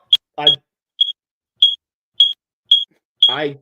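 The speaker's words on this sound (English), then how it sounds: "Oh wow, there's beeping." Short, high electronic beeps repeat at a steady pace, clear and close, with brief bits of voice at the start and end.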